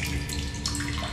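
Water running and splashing steadily in the video game The Solus Project, like a tap or a basin being filled, a short continuous wash heard on its own.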